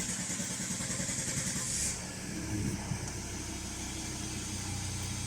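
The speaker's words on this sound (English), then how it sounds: "As you can see, the engine is starting," A car with a crank-but-no-start fault is started after sitting a day. A steady hiss and cranking whir shift at about two seconds into a running engine that holds a close, even idle.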